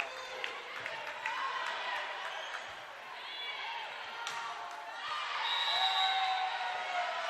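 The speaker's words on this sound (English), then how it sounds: "You can hear the Saints crowd in full voice right now." Saints home crowd cheering at a college volleyball tournament match in an indoor gym, a steady roar of voices that swells louder toward the end, with a commentator talking over it.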